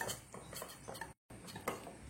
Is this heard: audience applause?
no